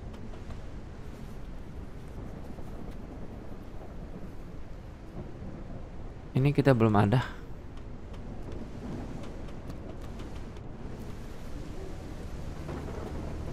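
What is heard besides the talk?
heavy rain and thunder in the video game Surroundead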